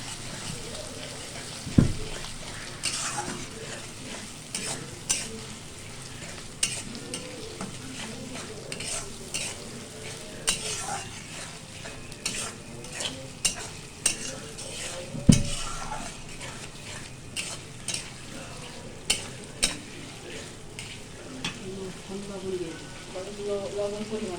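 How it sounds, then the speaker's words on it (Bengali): Ginger, cumin paste and green chili are stirred into country chicken curry frying in a pot: a constant sizzle runs under repeated spoon scrapes and knocks against the pan, coming every second or two throughout. "আদা এবং জিরা বাটা 2 চামচ এবং কাঁচামরিচ 1 চামচ দিয়ে নাড়াচাড়া করতে হবে"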